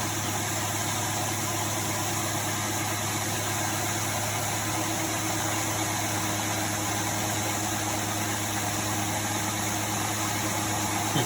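Micro hydro generator running, a steady loud mechanical hum with constant tonal whine and vibration, unchanging throughout and heard alone.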